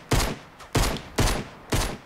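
Four evenly spaced pistol shots ring out in the Fortnite Battle Royale video game, each a loud, sharp crack with a short tail, fired alone without talk.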